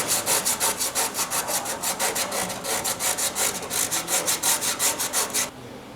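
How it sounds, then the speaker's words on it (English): Rusty car bodywork being rubbed back hard with 80 grit sandpaper, giving rapid, even back-and-forth rasping strokes that are close and loud and continue steadily until they stop near the end. "I'm just going to give a really vigorous rub with some 80 grit sandpaper to the rust I can actually get to"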